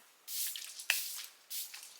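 Two short hissing sprays from a bottle of makeup setting spray onto a face, close by, separated by a soft wet tap.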